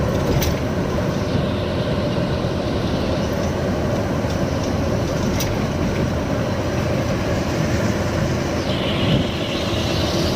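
A train rumbles steadily across a railway bridge in Vizianagaram, a continuous close, loud roar of wheels and wagons filling the whole stretch with no voices.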